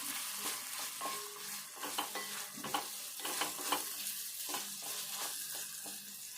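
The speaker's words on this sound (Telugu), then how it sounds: "కొద్దిసేపు ఇది కలుపుకోవాలి" Ginger garlic paste and onions being stirred in a frying pan, with a steady sizzle under repeated scraping and clinking strokes of the spoon throughout.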